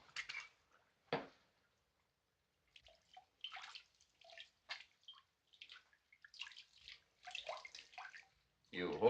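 Rum is poured over a person's hands in a 1937 film scene, a quiet liquid splashing and trickling in short, irregular bursts with brief pauses between them.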